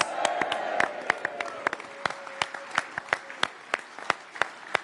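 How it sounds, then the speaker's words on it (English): Applause from a political rally crowd at a Leave Means Leave Brexit event: sharp individual claps ring out over a steady wash of clapping hands, with a brief murmur of voices early on. "Give yourselves a round of applause."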